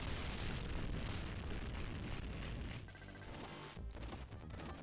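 Dense, continuous barrage of bomb blasts and explosions from the run-and-gun game Contra: Hard Corps during a boss fight, loud and sustained with layered booms and crackling bursts throughout.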